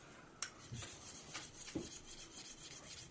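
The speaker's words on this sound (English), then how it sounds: "Gotta go to 600, the fine stone. And do exactly the same thing. Continue to work that bevel side." Steel broadhead bevel stroked back and forth on a fine 600-grit stone in a KME sharpening system, a soft, steady rasping rub repeating at a quick, even rhythm, close and fairly quiet.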